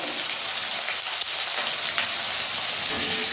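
Chopped tomato and turmeric powder fry in hot oil with ginger paste, giving a loud, steady, close sizzling hiss throughout with no talking.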